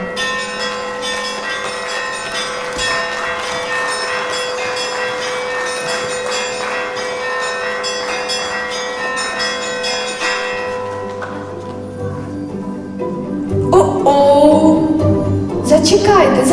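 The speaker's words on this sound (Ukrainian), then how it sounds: "Дзвонить миколаївський дзвін." A church bell rings for St. Nicholas day festivities at a staged theatrical holiday performance, its resonant repeated strokes ringing steadily and loudly with lingering tones before the sound fades into other noise near the end.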